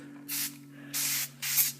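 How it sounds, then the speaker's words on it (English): Three short, even bursts of aerosol spray from a can of Sprayway glass cleaner, misted close onto the greasy lens of a 1964-65 Ford Mustang instrument cluster, with a steady low hum behind. "I've been spraying it down with this right here, spray away glass cleaner."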